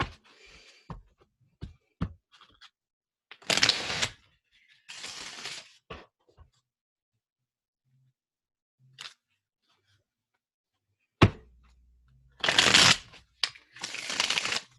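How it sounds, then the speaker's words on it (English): Cards are shuffled in several quick riffling bursts, separated by light taps and clicks of the deck being handled, close up. "Some cards are just so much easier to shuffle than others."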